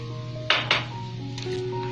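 A utensil knocks twice against a cooking pot while pumpkin and moringa are stirred together, giving a couple of close, bright clinks followed by softer scraping over a low steady hum.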